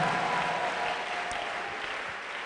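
Church congregation at a sermon clapping their hands: a thick, continuous roar of many hands, loud and steady throughout with crowd noise blended in.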